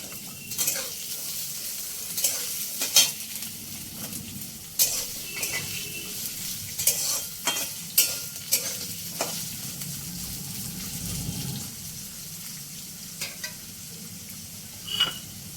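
Potato pieces being stirred into spices frying in a pan for jhal suji, a spiced semolina dish, with a steady sizzle and repeated clinks and scrapes of a spoon against the pan, close and without speech.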